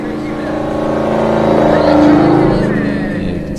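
Drift cars at a drift competition in Cyprus hold a loud, steady engine drone that swells toward the middle and then eases, with tire noise and a commentator talking over it.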